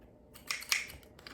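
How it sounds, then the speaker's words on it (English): Scissors snip excess tape off a paper model in a few quick, faint cuts against near silence. "you shave off the parts that you don't need the excess tape"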